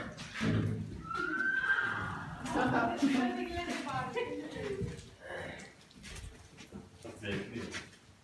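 Horses neighing outdoors, with several loud whinnies and snorts and some hoof clip-clop. People talk over and between the calls.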